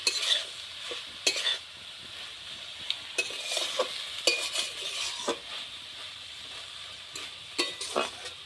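A spatula stirs a potato, taro and small fish curry in a pan, giving scattered, distinct scraping strokes against the metal every second or so over a faint simmering hiss.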